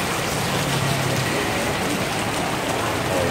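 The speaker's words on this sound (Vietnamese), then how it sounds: "nhìn họ đi dưới mưa có cái dù che" Steady, heavy rain pours onto a street between apartment blocks, a dense, unbroken hiss close by with no voices.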